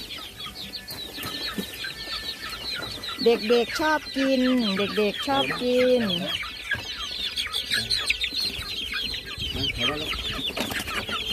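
A flock of chickens clucks and squawks close by while pecking at red meat, with dense, overlapping calls throughout and a few louder squawks in the middle. A person speaks briefly amid the birds.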